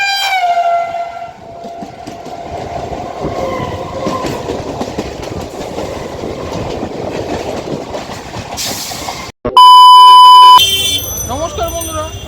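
The 33440 Barasat–Sealdah local train runs in the afternoon, opening with a long horn blast over a continuous loud rumble and clatter of wheels on rails, with voices present and a brief loud tonal sound near the end.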